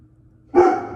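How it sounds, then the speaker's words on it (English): A single loud dog bark rings out after a moment of near silence, close by and sharp. "That's my dog."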